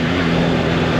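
A Honda CB450T motorcycle's engine drones loud and steady during a ride, a constant low hum with wind-like broadband roar and no change in pitch across the short stretch, no talking.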